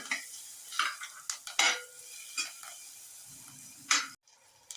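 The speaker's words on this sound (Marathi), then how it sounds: "बटरमध्ये लसूण चांगला परतल्यानंतर मी थोडीशी शिमला मिरच टाकत आहे" Capsicum hits butter with garlic in a pan and is stirred, giving a soft continuous sizzle under repeated scraping and clinking spoon strokes, several sharp bursts spaced across the clip, then a sudden brief dropout near the end.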